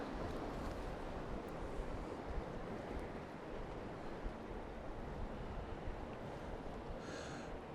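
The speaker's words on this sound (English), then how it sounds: "That's some fast moving water, and a lot of it." Laurel Run creek squeezed into a narrow channel at a drained lake, giving a steady, broad rush of fast-moving water that fills the whole stretch without pause, with no voices over it.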